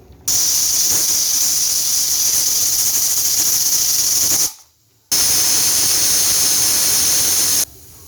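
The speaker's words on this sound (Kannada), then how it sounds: "ಈಗ ನನಗೆ 2 ವಿಸಿಲ್ ಬಂದಿದೆ ಕುಕ್ಕರು" A pressure cooker cooking rice for menthya bhath whistles with a loud, steady high hiss, cutting off briefly partway through before a second whistle starts and runs for several more seconds.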